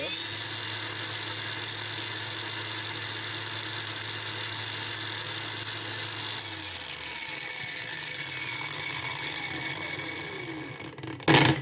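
A MELLIF AG-DW20 cordless three-speed angle grinder runs at high speed with a steady, loud motor whine. Around six seconds in the pitch slides down as it slows, and a brief clatter follows near the end.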